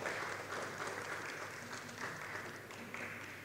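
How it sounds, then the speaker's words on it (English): An audience at an international speech technology conference applauds to welcome Professor Satoshi Tamura, a steady wash of many hands clapping that carries evenly through the whole moment without pause, heard from within the hall. "Please join me in welcoming him with a warm round of applause"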